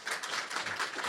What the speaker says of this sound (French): Sous les applaudissements du public.